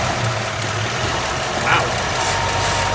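A 1965 Ford Ranchero engine idles after its first start since valve cover and fuel line work, a steady low rumble with a faint whine running throughout at close range, no talk over it.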